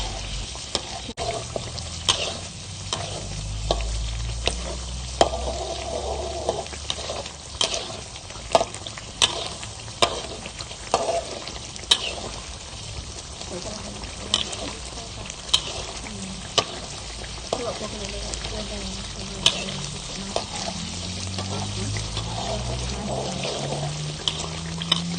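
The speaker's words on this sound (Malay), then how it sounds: "Sentiasa kacau sambal ini supaya permukaan di bawah sambal ini tidak hanyut." Chili sambal frying in oil in a pan while being stirred, a steady sizzle broken by repeated scraping and clacking of the spoon against the pan, close and continuous.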